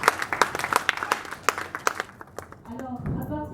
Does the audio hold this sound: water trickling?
no